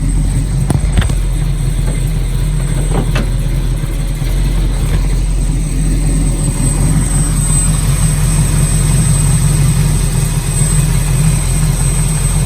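A fully restored 1967 Camaro SS RS with about 400 horsepower and a five-speed Tremec idles steadily, a low, continuous engine rumble heard up close and alone for the whole stretch.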